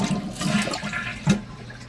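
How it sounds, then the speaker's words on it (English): A toilet flushes close by, right after a new wax seal has been fitted, giving a steady rushing swirl of water with a brief gurgling surge near the end. "when I flush the toilet"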